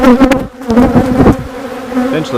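Honeybees from a swarmed colony buzz loudly and close, a dense steady drone of many wings with shifting tones and no talk.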